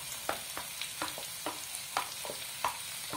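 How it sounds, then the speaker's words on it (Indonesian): Cauliflower and chili stir-frying in hot oil, a steady faint sizzle with soft rhythmic clinks and scrapes of a utensil stirring the pan roughly every half second. "Nah, ditumis sampai setengah matang"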